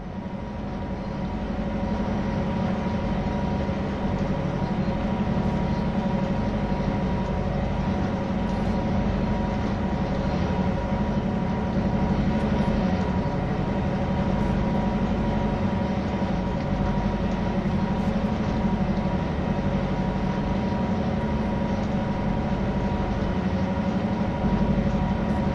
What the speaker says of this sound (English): Currently aboard a GP9RM diesel locomotive.